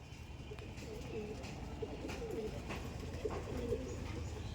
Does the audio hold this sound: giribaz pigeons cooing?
yes